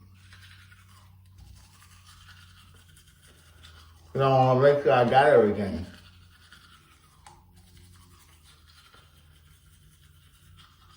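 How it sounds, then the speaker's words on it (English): An electric toothbrush runs with a buzzing, scrubbing sound for about two seconds in a quiet room, while a person talks briefly. "You hear that toothbrush working?"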